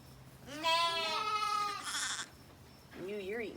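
Sheep and lambs bleat at lambing time, with one long, loud, wavering bleat followed by a shorter, quieter bleat close by, over faint background noise.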